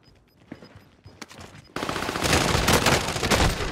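Gunfire in the Warzone Caldera video game: a few scattered shots and clicks at first, then a sudden loud, sustained burst of rapid automatic fire that runs to the end, with no speech.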